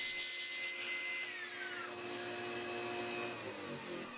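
Power saw blade shaving the edge of a wooden Lazy Susan piece into a circle, a steady close whine with shifting pitch as the wood is rotated against it, running continuously throughout.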